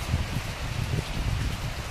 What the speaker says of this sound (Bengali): বাতাস, ঝড়ো হাওয়া